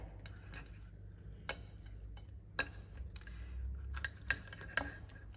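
Award-winning butcher's sausages are cut into chunks on a plate with a knife and fork. Sharp metal clinks and scrapes sound against the crockery at irregular moments, close and quiet in a still room with a low hum behind.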